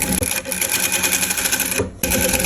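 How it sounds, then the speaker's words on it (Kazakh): Sewing machine stitching the back seam of a child's dress, a fast, even mechanical rattle running continuously with one brief pause before resuming. "Міне енді артқы тігісін тігіп аламыз."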